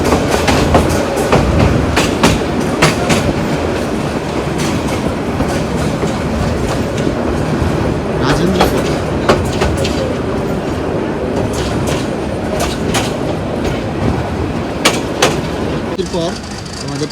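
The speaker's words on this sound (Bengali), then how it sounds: "প্রবেশ করছে তার যাত্রাপথে তৃতীয় stoppage Rajendrapur junction Rajendrapur railway station" A passenger train pulls into Rajendrapur Junction railway station in Gazipur, its wheels clicking steadily over rail joints with a continuous loud rumble and occasional sharp metallic clanks throughout.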